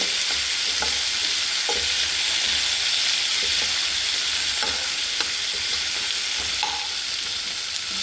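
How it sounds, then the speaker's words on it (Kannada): Tomato, onion and green chili fry in a pan with a constant bright sizzle, and a spoon knocks against the pan in occasional sharp taps as they are stirred. "1 ಟೊಮೆಟೊ, 1 ಈರುಳ್ಳಿ, 1 ಕಾಯಿ ಮೆಣಸನ್ನು ಹಾಕ್ಕೊಂಡು ಮಿಕ್ಸ್ ಮಾಡೋದಕ್ಕೆ. ಇದು ಚೆನ್ನಾಗಿ ಮಿಕ್ಸ್ ಆಗಲಿ."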